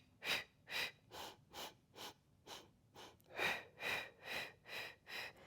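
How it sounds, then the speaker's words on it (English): Quick rhythmic breaths during a Pilates breathing exercise, about thirteen short sniffing puffs in a steady pattern, close and clear with no talking. "to take really fast little breaths"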